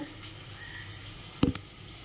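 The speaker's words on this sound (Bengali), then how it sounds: "এর মধ্যে সামান্য একটু জল অ্যাড করব" A small splash of water poured into ground cumin and turmeric for a spice paste, heard as one brief, close pour of a fraction of a second in an otherwise quiet kitchen.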